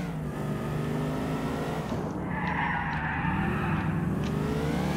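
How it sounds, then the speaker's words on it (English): A car drifts through a turn in GTA IV, its engine revving steadily as tires skid and screech partway through, loud and continuous with no talking. "Nice drift."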